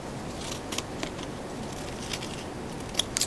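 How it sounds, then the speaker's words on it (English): Scissors make a few sharp, crinkly snips through thin foil, quiet and close, with light rustling between the cuts. "Open it up, take my scissors,"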